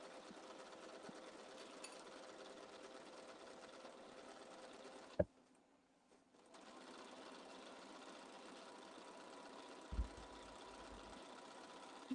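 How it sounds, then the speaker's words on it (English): Sewing machine stitching down the side of a fabric bag with a steady, quiet mechanical hum that stops briefly near the middle and then resumes, with a few small clicks. "Right, let's stitch down the other side."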